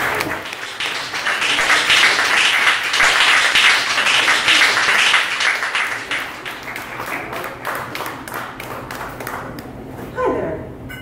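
An audience at a poetry reading show applauds the featured poet, with a dense burst of clapping that swells, then thins and fades toward the end.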